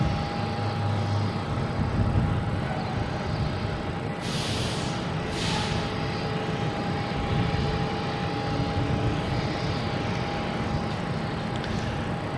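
A Virgin Atlantic airliner arrives at Boston Logan airport, its broad jet roar rumbling steadily in the distance with a constant tonal whine and a few brief higher hisses over the top.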